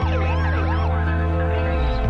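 An ambulance siren wails loudly and close, its rising and falling sweeps filling the whole short stretch with no other sounds.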